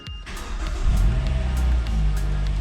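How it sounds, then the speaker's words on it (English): A 2010 Mazda 6 engine cranks and catches, then settles into a steady, close mid-pitched running note with a slight rise in revs, no talking over it. "Now we need to start the car"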